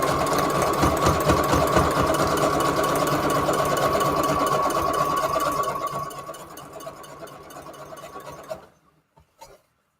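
A sewing machine stitches in a fast, even mechanical rhythm, close by, then slows and stops, followed by a few faint clicks.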